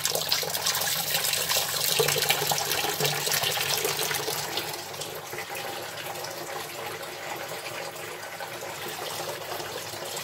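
Liquid runs steadily through a counterflow wort chiller during home beer brewing, a continuous close watery rush like a running tap, slightly louder at first then settling into an even flow.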